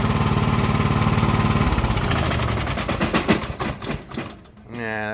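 Troy-Bilt riding lawn mower engine running rough on start-up, a loud uneven sputtering chug that falters and drops away before a brief rattling restart, close by.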